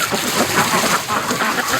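Breeding ducks in a backyard pen, the females loudest, give a continuous run of squawking and quacking calls. The sound is noisy, busy, close and fairly loud.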